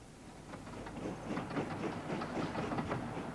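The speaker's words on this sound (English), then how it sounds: "a visitor to the Holy Land at that time would have been able to make the journey from Jaffa to Jerusalem by train" Steam train running on the Jaffa to Jerusalem railway, a steady rolling clatter of wheels on track with rhythmic clicks, moderately loud and continuous with no voices.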